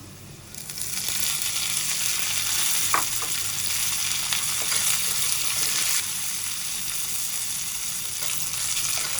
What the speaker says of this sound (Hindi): थोड़ी सी कलौंजी डालेंगे, 2 डंडी कड़ी पत्ता है, 4 गोल मिर्चें हैं, 4 हरी मिर्चें हैं।